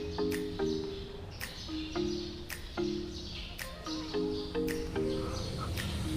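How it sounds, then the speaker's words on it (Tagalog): Birds chirp and call around the Temple of Leah, short bright tweets repeating every second or so over a steady low background hum, fairly close and continuous. "maririnig mo pa yung mga ibon na nasa paligid natin"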